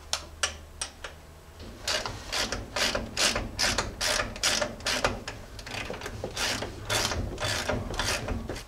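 A hand ratchet tightens a nut on a lift bushing of a 1978 Jeep J10 during a 3-inch lift install, with a steady series of close, crisp clicking strokes in quick rhythm.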